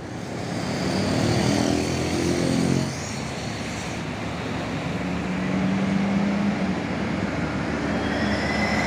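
A tour bus passes along a road in Indonesia, its engine rumble swelling loud and close before easing away, followed by steady traffic noise and another vehicle approaching, with no talk.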